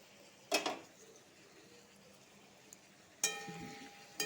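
A lid set down on a pot of mixed-vegetable chorchori gives two separate metallic clanks a few seconds apart, the second ringing briefly, over a quiet kitchen background.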